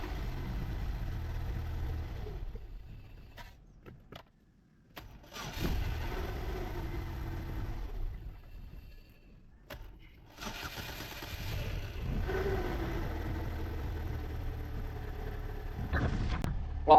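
GM car with a hard-starting fault cranking and firing up, then settling into a low, steady idle, with a pause and a second start; quiet and close, with no talking.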